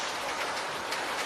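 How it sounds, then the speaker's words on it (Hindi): Steady cartoon-style rain sound effect pours down for a moment, a dense even hiss of falling drops without any voices. "3 दिन तक बारिश चलती रही।"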